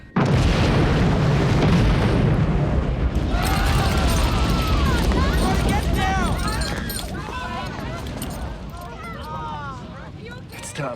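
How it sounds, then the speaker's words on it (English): Bomb blast in a ship's fuel room, a heavy booming roar that rumbles on and slowly fades, with voices shouting and calling out over the settling noise. "A bomb in the fuel room."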